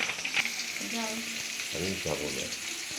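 Potato pieces fry in a pan with a close, continuous sizzle, punctuated by a few scraping stirs and brief clinks, with a voice speaking briefly over the cooking sounds.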